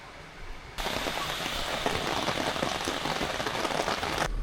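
Steady, dense rain pours down on a hard surface in Malaysia, starting abruptly and continuing as a loud, even hiss with crackling drops.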